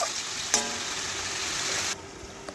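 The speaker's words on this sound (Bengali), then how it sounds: "আবারও নাড়াচাড়া করে দেখুন কিছুক্ষণ আমি আলুগুলো মশলা দিয়ে রান্না করে নিচ্ছি" Potatoes fry with spices in a pan, giving a steady close sizzle with a few sharp scrape and clink sounds from stirring and a brief change in texture near the end.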